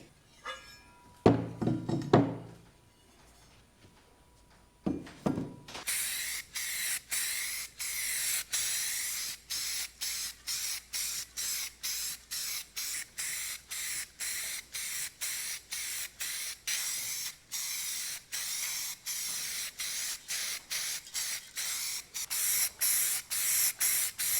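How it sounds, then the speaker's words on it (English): Primer is sprayed onto Allis Chalmers tractor parts in an indoor workshop: a few clunks and a short hiss, then many rapid, even bursts of a spray can, close and loud, with no talking. "I've got all of these Allis Chalmers parts primered."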